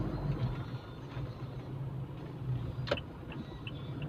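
City road traffic on EDSA near GMA Timog, a steady low rumble of passing vehicles with a brief horn-like blip, heard from inside a vehicle at moderate volume.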